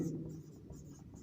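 Marker or chalk scratching across a classroom board during a math lesson, quiet soft strokes in short uneven bursts, close by with no talk over it.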